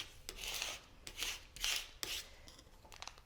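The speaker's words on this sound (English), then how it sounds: "just smooth it out. Maybe take your little scraper" A small plastic scraper rubbing across craft vinyl in four or five short, close, raspy strokes with brief pauses between them, faint and alone in a quiet room.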